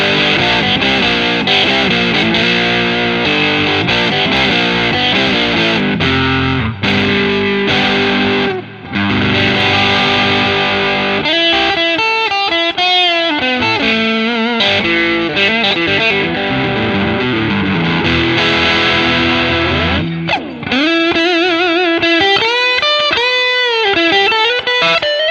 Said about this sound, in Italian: Andiamo a sentire i due pick up assieme.